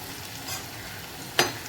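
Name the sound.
onion potato bhaji frying in oil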